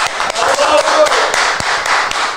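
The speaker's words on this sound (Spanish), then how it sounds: "Aplauso para tubo." Audience applause in a live studio setting, dense steady clapping under a presenter's voice, with a few sharper hand claps standing out.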